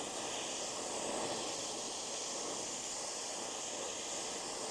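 A torch hisses steadily and close while warming brazing flux on a rod, a continuous broad rushing hiss with no breaks.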